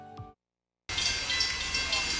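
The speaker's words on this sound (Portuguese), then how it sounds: "O som já avisa. É o trem chegando." A train arrives at Itapina, a small district of Colatina: a short voice, a moment of silence, then a loud, steady rumbling roar that carries on without a break.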